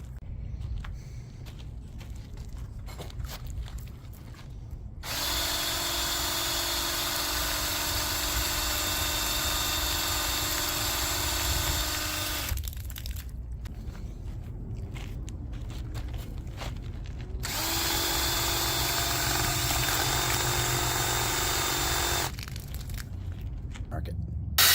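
A small outboard motor water pump, submerged in water, drones loudly in two long stretches, starting and stopping abruptly, with quieter background noise and handling sounds between runs.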